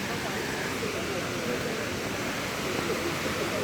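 Kuang Si Waterfall near Luang Prabang gives off a steady, dense rush of falling water that fills the whole clip without a break. It sounds close and continuous, with no clear voices over it.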